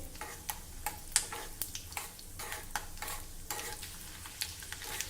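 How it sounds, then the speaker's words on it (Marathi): Peanuts stir-roasted in a pan until lightly browned, a steady dry sizzle broken by repeated sharp scraping and rattling strokes of the spoon against the pan, fairly close and with no voices. "आता आपल्याला हे शेंगदाणे थोडे तांबूस होईस्तोवर परतवून घ्यायचे आहे"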